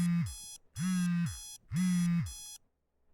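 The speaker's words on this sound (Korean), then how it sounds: "지겨운 알람 소리와 함께 눈이 떠졌다" Alarm clock ringing in the visual novel video game 52Hz, three loud electronic beeping bursts with rising and falling tones, evenly spaced, then silence.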